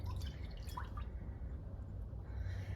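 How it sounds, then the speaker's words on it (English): A cup of chicken broth is poured into a crockpot for a Cajun chicken pasta meal. A soft, faint liquid trickle runs throughout, with a few brighter splashes early on and no talking. "So it's a cup of chicken broth, and just pour that in."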